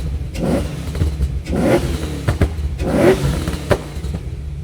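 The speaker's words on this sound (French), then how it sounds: "mets un ou deux coups de gaz" A BMW M5 engine revs in three quick throttle blips, each a loud, deep rising roar that falls back to a steady idle rumble between bursts.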